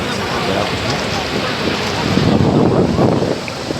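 Broadband roar of surf and wind, steady and fairly loud, swelling slightly toward the end as a wave seems to build and wash in.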